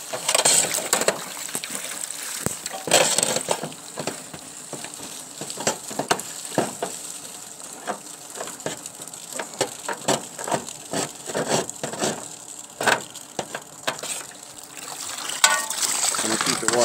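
Water from a running hose flows through a clogged residential gutter during gutter cleaning in Roswell, Georgia, a steady close splashing and trickling with scattered drips and knocks throughout, and no talk over it.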